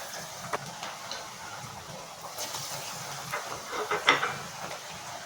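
Six chana dal vadas frying in hot oil over a medium-low flame, giving a steady soft hiss with faint crackles and a few small pops, close and fairly quiet, with no talking.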